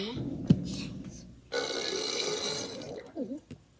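A Talking Tom app character gives a loud, gurgling burp in the middle, with short voiced squeaks before it and a brief low croak at the end.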